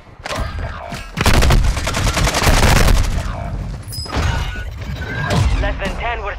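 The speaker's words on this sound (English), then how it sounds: "He's still shooting through that little hole." Gunfire in Call of Duty Warzone 2.0 on Ashika Island, with a dense burst of rapid automatic shots, then scattered later bursts, all loud and close and mixed with talking players.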